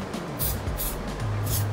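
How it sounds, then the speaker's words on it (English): Short hissing bursts of spray for mold making, three light puffs separated by brief gaps over a low steady background. "mix it and spray it"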